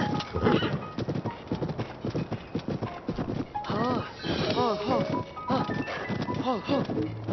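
Horse hooves clop in a steady rhythm in Zelda: Tears of the Kingdom, with a horse whinnying partway through, all under near-continuous talk from a player.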